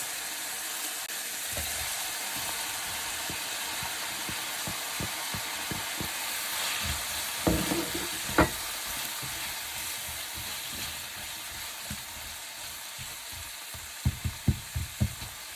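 Onions frying in oil in a pan on medium heat for a baked pasta, a steady soft sizzle with occasional clinks and scrapes of stirring, no talking.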